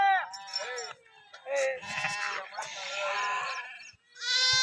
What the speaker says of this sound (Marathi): आपण ह्या मेंढी माऊलीच्या तळावरती आलेलो आहे आता आणि ह्या ठिकाणी आपल्याला लहूदादा भेटलेल